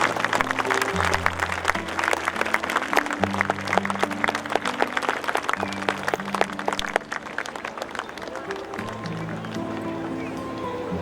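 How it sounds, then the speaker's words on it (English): An audience at a boarding school Founder's Day event in Dehradun gives a long round of applause, dense and loud for about seven seconds before easing slightly, with a steady musical tone sounding underneath. "May we have a huge round of applause for ourselves."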